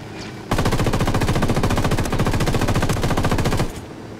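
Sustained machine gun fire in the video game Ghost Recon Wildlands, a rapid, evenly spaced burst of about three seconds, loud and close, with a quiet lead-in and tail.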